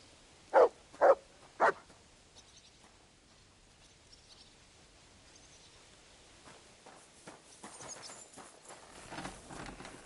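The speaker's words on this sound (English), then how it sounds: "You silly doggy." A dog in Kingdom Come: Deliverance II gives three quick barks close by, then the scene settles into quiet with faint shuffling and rustling building toward the end.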